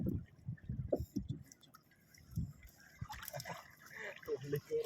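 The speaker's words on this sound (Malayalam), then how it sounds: "ചെമ്മീൻ തുള്ളുന്നുണ്ട്." Freshly netted prawns jump and splash inside a small fishing boat, giving scattered wet flicks and trickles of water beneath ongoing talk, faint and close by.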